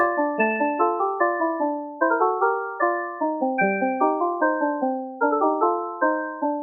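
Two harpsichords play weaving fugue voices in a steady, busy counterpoint, each note sharp and quickly decaying, playing clearly with no voices.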